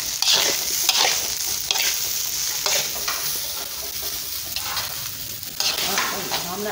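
Fried rice with pork, egg and minced garlic stir-fried in a hot pan, with a steady loud sizzle and repeated scraping strokes of the spatula throughout, no talk.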